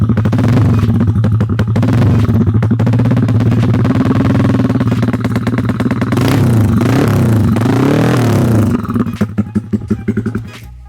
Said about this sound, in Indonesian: Dan ini kita geber sedikit ya.